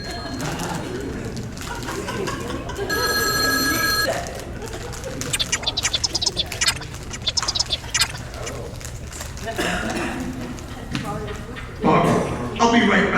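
A telephone rings briefly in a comedy stage play, a short bright electronic trill heard once amid stage dialogue and room noise.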